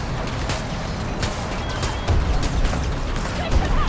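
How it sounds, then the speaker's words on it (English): A burst launcher firing in the shooter video game Battlefield 2042: rapid, repeated sharp reports in quick clusters, loud and close, over dense battlefield noise. "Burst launcher"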